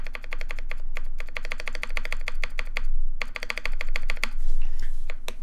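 Rapid, steady keystrokes on an Aaru TKL mechanical keyboard by Helix Lab fitted with Frog Boy switches, each press a slightly scratchy click with a poppy finish, typed continuously and up close with brief pauses and no talking.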